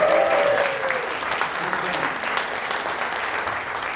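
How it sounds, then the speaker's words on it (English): An audience applauds a graduating student at a distinguished speaker series lecture, sustained dense clapping filling the room at steady volume, with a brief voice at the start. "extra round of applause because he's graduating this Friday"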